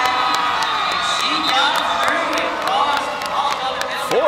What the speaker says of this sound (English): The crowd's going berserk.